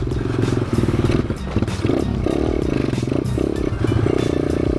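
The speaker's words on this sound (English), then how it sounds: "I'm just riding really slow because I've got a flat tire." A Thumpstar 140cc pit bike rides slowly on a half-flat front tire, its engine putting steadily at low revs with rattling clatter close to the microphone throughout.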